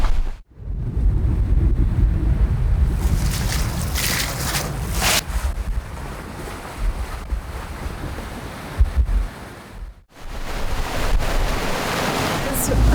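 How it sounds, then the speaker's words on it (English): Steady wash of wind, surf and engine drone aboard a sailboat motoring at sea with its sails lowered, close and continuous, with brief interruptions and some rustling bursts over the roar. "we've taken the sails down and we're just motoring"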